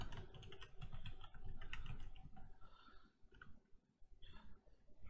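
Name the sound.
typing on a computer keyboard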